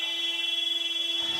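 A basketball shot clock buzzer at a women's league game sounds one loud, sustained electronic tone that holds steady before cutting off.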